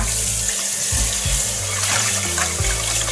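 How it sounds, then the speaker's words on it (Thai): Cold tap water runs steadily into a bowl of cooked Thai rice noodles, a loud continuous splashing pour that fills the whole stretch with no talk. "เปิดน้ำเย็นลงไปอีกน้อยหนึ่งค่ะ"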